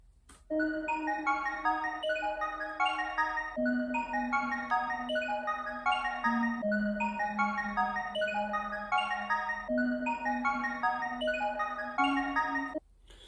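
A bouncy, light MIDI synth melody loops continuously over a sustained bass note that steps between pitches, with quick repeating plucked notes in a steady rhythm, bright and alone without talk.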